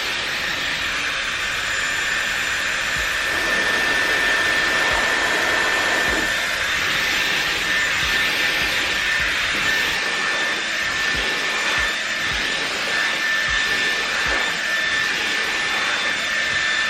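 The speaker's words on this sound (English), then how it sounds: "first impression of the blow dryer, wow, that thing works fast" Dyson Airwrap blow dryer drying long, thick hair, a loud steady rushing whine of airflow that runs continuously and close throughout.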